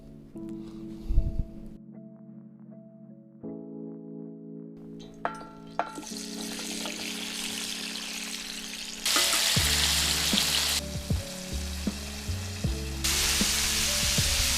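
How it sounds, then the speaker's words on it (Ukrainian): Vegetables sizzle and crackle steadily in a hot pan over an outdoor fire, growing louder partway through, with a low hum and occasional clinks underneath. "Сковорідку на вогонь і підсмажимо овочі."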